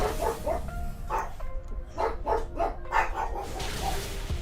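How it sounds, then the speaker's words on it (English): A man's own dogs bark in a rapid run of sharp yaps and woofs, several in quick succession with short pauses between them, fairly close and loud against a steady room background. "my dogs are barking"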